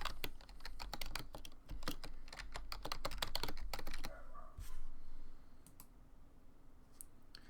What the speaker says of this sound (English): let's type in the next one